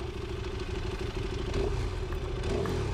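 A KTM RC8 superbike at speed on the Lédenon race circuit gives a steady, loud engine drone with wind rush, heard continuously from on board.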